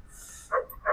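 Alabai dogs at the Sabunchu dog market give two short, fairly loud barks near the end, over a low hum of crowd background.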